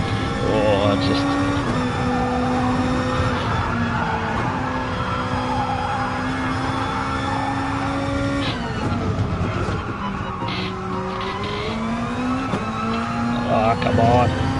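A Gr2 race car at Fuji in Gran Turismo holds a loud, steady engine drone with tires squealing through corners, the pitch dipping at gear changes, continuous throughout.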